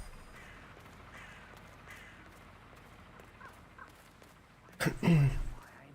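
Crows caw faintly in a cemetery in the video game Hitman 3, a few scattered calls over a low ambient hum, followed by a sudden louder burst of noise near the end.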